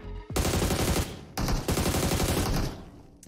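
Rapid automatic gunfire in a battle royale video game, loud and sustained, two dense bursts of fast repeated shots separated by a brief gap.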